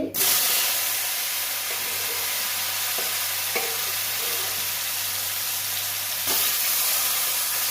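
Boiled potato and raw banana fry in oil with black cumin, a steady close sizzle and hiss with a few soft stirring knocks, no talk.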